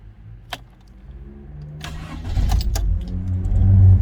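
A car engine cranks and catches, rumbling low and growing steadily louder as it settles into running unevenly, with a sharp click near the start.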